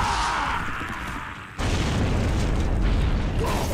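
A grenade goes off in Gears of War, a sudden loud blast at about 1.6 seconds that jumps the level and then rumbles on as dense low-end noise.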